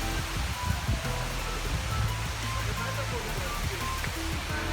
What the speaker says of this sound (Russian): Вон огромный водопад.